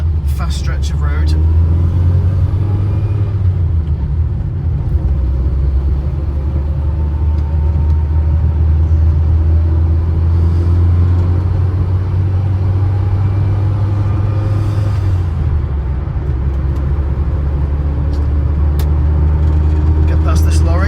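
Steady in-car engine drone with low road rumble, an Allegro cruising at speed, engine note rising and falling slightly, loud and continuous throughout.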